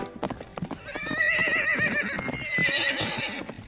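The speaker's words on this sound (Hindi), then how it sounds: "उन्हें फिर दूसरी तरफ से घोड़ों की टापों और हिनहिनाने की आवाज़ सुनाई पड़ी।" Horses neighing over the clip-clop of hooves, several whinnies rising and falling above a steady patter of hoofbeats, fairly close and with no speech, in a Hindi horror story about soldiers.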